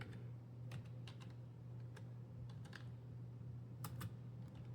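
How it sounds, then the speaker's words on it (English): Soft, irregular keystrokes on a computer keyboard typed with one hand, scattered clicks over a steady low electrical hum in a quiet room. "typing with one hand is not fun."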